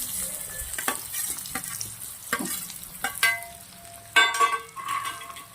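Boiled potatoes with turmeric and salt sizzle in a hot pan while a utensil stirs and scrapes through them in irregular strokes, close and fairly loud, with no talking.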